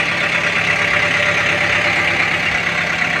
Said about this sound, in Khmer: ថ្ងៃនេះមានត្រាក់ទ័រមួយគ្រឿង ត្រាក់ទ័រ M60 ត្រាក់ទ័រនេះស្អាតណា ស្ទឹងនេះឆេះស្អាត